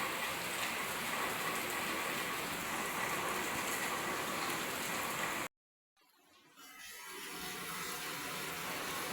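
Heavy rain pours steadily as a dense, loud hiss, cuts out abruptly to near silence for a moment, then returns and gradually swells back to full strength.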